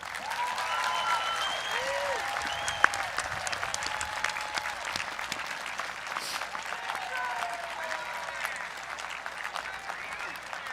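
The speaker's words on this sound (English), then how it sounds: "show them how much you love them with a round of applause" A large crowd at the Cumberland Valley High School Class of 2021 commencement applauds for families, a long, sustained, crackling roar of clapping with scattered cheers and whoops rising through it.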